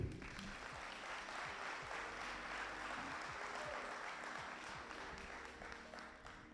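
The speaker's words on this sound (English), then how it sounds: "So we give them a round of applause too." Applause at a fire department swearing-in ceremony, a sustained wash of many people clapping, heard at a distance and fairly faint, steady throughout before easing slightly at the end.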